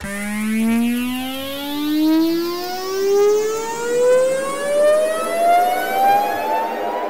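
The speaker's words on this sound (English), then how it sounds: "we're just going to play this riser by itself without the LFO" An EDM synth riser played alone, with no LFO on the pitch. One steady electronic tone climbs smoothly upward over several seconds, its layered harmonics sweeping higher together, with a gentle pulsing swell in loudness and no voices.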